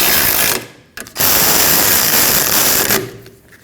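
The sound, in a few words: tightening 12mm bolts on a Subaru Forester brake backing plate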